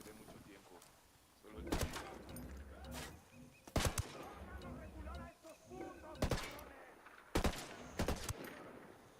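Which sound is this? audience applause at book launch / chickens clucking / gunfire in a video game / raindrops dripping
gunfire in a video game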